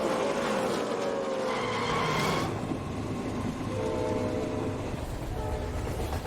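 A train rumbles past loudly and steadily, with a horn-like tone sounding briefly near the start and metallic wheel noise throughout.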